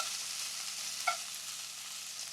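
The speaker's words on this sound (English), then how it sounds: "I've started my browning process already." Beef browns in a stew pot with a steady, close sizzling hiss throughout, broken by one brief metallic clink of a utensil partway through.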